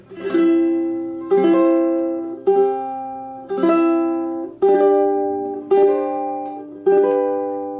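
A ukulele strums a song's chord progression, seven ringing chords struck at an even pace, each decaying before the next, played clearly and alone without talk.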